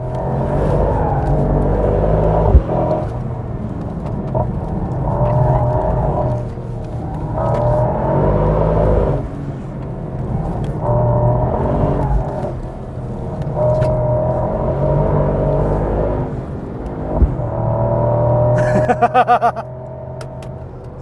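A 2024 Mercedes-AMG GT Coupé, all-wheel drive, runs in drift mode on a circuit, its engine surging and easing in repeated waves of revving with short gaps, loud and close throughout.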